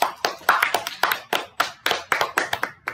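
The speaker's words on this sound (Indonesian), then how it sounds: "Bisa kita beri aplaus dulu untuk Mario." Applause from a school audience at a student council election campaign event, a burst of claps with sharp individual hand strikes that stay steady and fairly close for about three seconds, with no voices.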